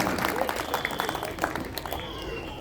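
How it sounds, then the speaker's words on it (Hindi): An audience at an Arya Samaj gathering applauds the young people present, a short burst of scattered clapping from a crowd with a voice talking over it. "तो इसलिए युवाओं के लिए एक बार तालियां बजा के इनका अभिनंदन करें"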